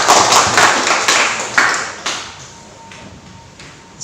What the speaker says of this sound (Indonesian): kita berikan tepuk tangan untuk pasangan paslon nomor 1 dan nomor 2